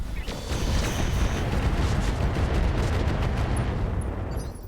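Mech weapons firing in the video game RogueTech, a dense, loud barrage of booming shots and blasts rolling continuously for several seconds, heavy low rumble throughout with no talk over it.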